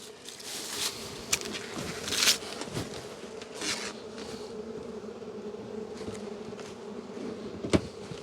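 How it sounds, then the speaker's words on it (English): A dense swarm of bees hums continuously all around, a steady close buzz with occasional louder passes of individual insects. "That's a lot of bees."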